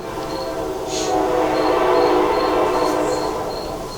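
A train rumbling past at close range, a broad steady roar that swells through the middle and eases off, with faint high chirping behind it.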